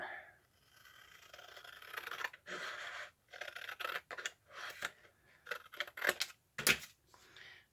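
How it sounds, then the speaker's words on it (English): Scissors snipping through paper while building a lap book, a series of short crisp cuts in uneven bursts with brief pauses between them, close up and fairly quiet, with no talking. "I'm just going to try to cut straight and eyeball that"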